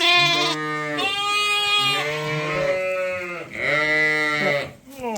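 Bottle-fed lambs on a winter sheep farm bleat in long, loud, wavering cries, several calls overlapping one after another at close range.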